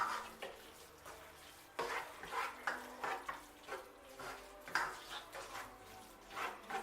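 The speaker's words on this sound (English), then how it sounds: "Just stir this in a little bit." Sausage and rice mixture stirred in a pan for stuffed bell peppers, with repeated scraping and soft knocks of a spoon in an uneven rhythm over a faint sizzle, quiet and close, with no talking.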